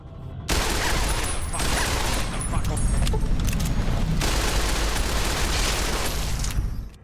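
Rapid, dense gunfire from Fallout: New Vegas as Motor Runner and his fiends are gunned down in Vault 3. The shooting is a steady, loud barrage for several seconds, with a short lull midway before it cuts off.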